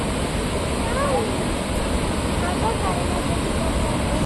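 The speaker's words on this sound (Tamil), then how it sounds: "இந்த ஃபால்ஸோட சத்தம், தண்ணி ஓடுற சத்தம்." Ripple Waterfalls in Munnar, a broad steady roar of falling and flowing water, continuous and fairly loud, filling the scene without a break.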